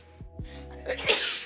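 A close indoor sneeze cuts through a quiet room during a relaxed weekend wine chat, a quick explosive burst following a couple of short intakes of breath.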